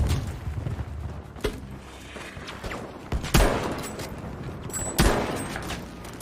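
Battlefield 5 gunfire in a Provence attack-and-defence match: a few sharp, separated shots ringing out over a rumbling battlefield backdrop, each with a short echoing tail, moderately loud and spaced a second or two apart.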